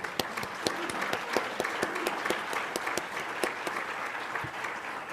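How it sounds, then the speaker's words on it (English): Meeting audience applauding a speaker, moderate crowd clapping with distinct individual claps standing out, steady and somewhat distant throughout. "Please join me in a large round of applause for Big Boss Rod Deardon"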